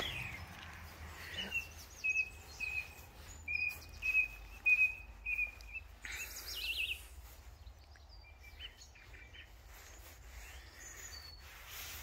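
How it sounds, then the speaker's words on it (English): A bird sings a series of short, clear whistled phrases, soft and somewhat distant, against a quiet outdoor churchyard background. "I hope folks hear that lovely bird in the background."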